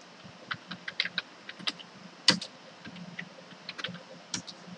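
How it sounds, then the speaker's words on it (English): Typing on a computer keyboard to enter a search on a web page, heard as scattered, irregular key clicks in short bursts with one sharper tap, fairly close and alone. "I'm going to type in for communication design"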